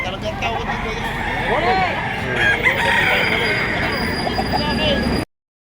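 Roosters crow repeatedly amid a dense, noisy backdrop of clucking fowl at a poultry market in Lipa, Batangas, with someone talking over the steady barnyard din.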